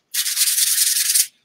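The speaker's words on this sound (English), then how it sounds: "a lot of times I take my sanding paper and go over it" Sandpaper rubs quickly over a painted wooden drawer in one close, scratchy burst of short back-and-forth strokes, about a second long.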